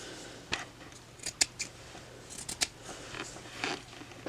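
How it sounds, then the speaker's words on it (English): Scissors snipping through felt fabric while cutting out spring flower shapes, a string of short, close, crisp cuts with uneven gaps between them, alone with no talk. "I'm going to cut out my fabric first"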